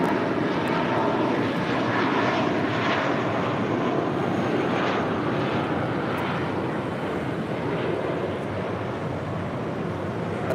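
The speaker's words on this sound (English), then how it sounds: "That is Delta Airlines Flight 712 coming in from Atlanta, Georgia." A Delta Airlines Boeing 757-300 arriving at LAX from Atlanta, its broad engine roar holding steady and loud throughout, close by and alone with no talk.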